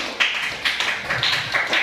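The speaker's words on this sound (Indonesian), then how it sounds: "tepuk tangan untuk kelompok kreatif" A classroom of students claps for a student group after a presentation, a quick, steady run of close hand claps lasting under two seconds.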